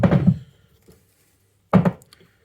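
Brake pad being knocked out of a rear caliper on a 1994 Jaguar XJS V12, two dull close thunks separated by a short pause and a faint tap.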